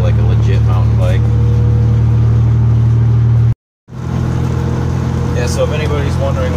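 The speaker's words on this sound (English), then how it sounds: "if anybody's wondering what a Magnaflow muffler sounds like on a V6 Ford Econoline, this is pretty much it" Ford Econoline with a V6 engine and a Magnaflow muffler, a steady loud low exhaust drone with a brief dropout midway, then resuming at the same level.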